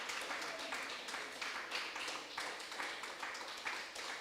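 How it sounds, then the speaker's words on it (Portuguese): A church congregation claps together in steady rhythmic applause, fairly soft and somewhat distant, with faint voices underneath. "Uma salva de palmas ao Senhor."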